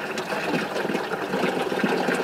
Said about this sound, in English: We're just going to flush everything out.